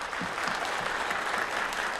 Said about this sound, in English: The applause in the chamber was, for the most part, not coming from the other delegations, but from his own team and from his invited guests.